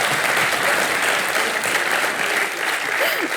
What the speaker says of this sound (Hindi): तालियां मारो बेटी के लिए।